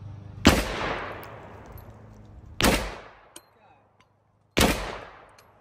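Three loud, sharp gunshots spaced about two seconds apart, fired at a steel target, each with a ringing decay, a faint metallic tick between the last two shots.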